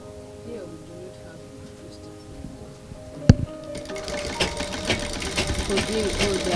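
A manual sewing machine stitches a pillowcase, its mechanical whir starting after a sharp knock partway through and running steadily to the end beneath background voices.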